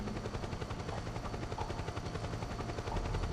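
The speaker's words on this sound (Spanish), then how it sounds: "Cuidado que me pilla el helicóptero." A helicopter in the video game Metal Gear Solid 4 thuds loudly and continuously with a fast, steady rotor chop, dense and close, with no talking.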